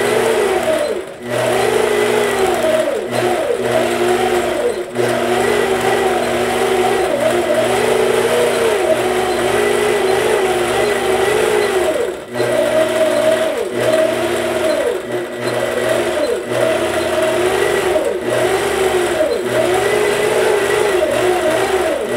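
APQS Millennium longarm quilting machine stitching free-motion across a quilt, a loud steady motor whir with rapid needle chatter that rises and falls in pitch as the stitching speed changes, continuous with no talk.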